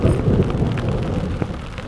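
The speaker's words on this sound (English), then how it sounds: "It is thundering, as you can clearly hear." Steady heavy rain roars throughout, with low rumbling thunder underneath, close and continuous with no voices, during a storm in Manistee National Forest.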